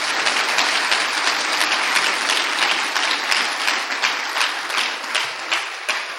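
Loud, sustained applause from a large church congregation, dense clapping filling the whole stretch without a break.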